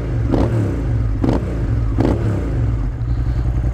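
A 1999 Suzuki SV650S V-twin motorcycle's engine hums steadily while riding, with three short throttle blips swelling over a low continuous drone, close and moderately loud with no talk.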